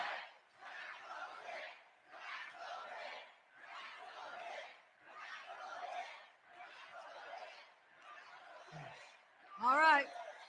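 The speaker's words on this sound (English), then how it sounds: "Oh, this crowd is fired up." A rally crowd for a New York mayoral race cheering and shouting in rhythmic, chant-like bursts roughly once a second, fairly distant, followed by a sharp louder whoop near the end.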